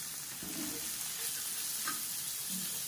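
Chicken liver pepper fry stirred in a pan, with loud continuous sizzling and a few scraping stirs across a short stretch.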